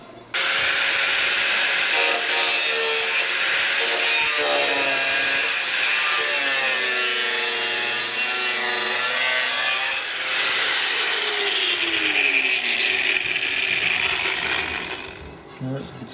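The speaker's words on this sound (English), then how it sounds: "what you'd call it, one of these, air hacksaw?" An air-powered hacksaw rasps loudly and continuously through metal on a Land Rover Defender 127/130 restomod, its fast reciprocating blade buzzing close up with shifting pitch, ending in a brief pause.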